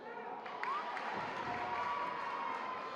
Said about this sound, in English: that gets the Classical crowd on their feet